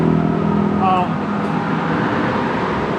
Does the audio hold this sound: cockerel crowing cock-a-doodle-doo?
no